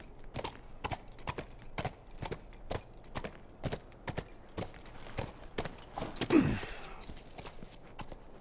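Horse hooves clip-clop in The Last of Us, an evenly paced run of crisp, close hoofbeats, with a brief snort or breathy rustle near the end.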